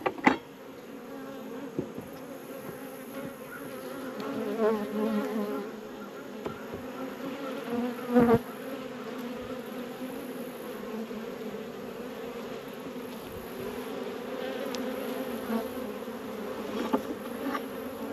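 A dense, steady buzz of many honey bees swarming around an open hive, close and continuous, with a few brief knocks and thumps.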